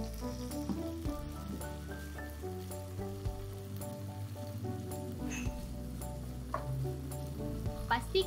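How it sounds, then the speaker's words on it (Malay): Marinated chicken fillet fries in a pan, giving a steady sizzle throughout with a few clinks and stirring sounds layered over a low background hum. "Gorengkan filet ayam yang telah diperap dengan menggunakan pan penggoreng."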